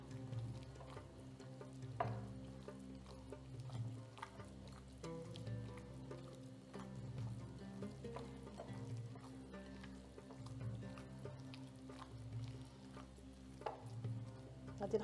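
Onions fry in a pan for a Moroccan ground beef pastry filling, a soft steady sizzle with occasional stirring scrapes and clinks, quiet and close throughout.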